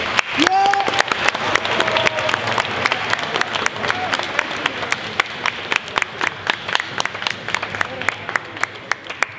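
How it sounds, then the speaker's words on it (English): Audience applause at a high school poetry recitation event, sustained clapping from a room of people that thins into sparse individual claps, with voices calling out near the start. "please give yourselves a round of applause"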